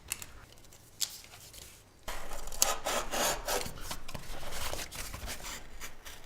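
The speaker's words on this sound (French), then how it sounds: "Découpe tout de suite le côté fixé, avec la lame à crochet." A hook blade cuts through PVC floor covering, a close, quiet dragging and scraping that starts with a couple of soft taps and then runs as a continuous rough rasp for several seconds.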